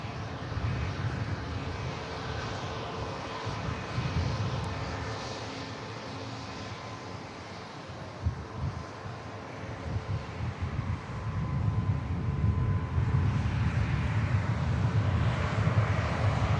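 Airliner engines at Manchester Airport runway, a steady far-off broadband roar that swells louder toward the end, mixed with wind noise.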